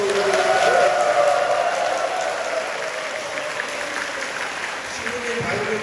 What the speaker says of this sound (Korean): 우리에게 열정적인 말씀을 전해주신 신부님께 다시 한번 감사의 박수 올려드립니다.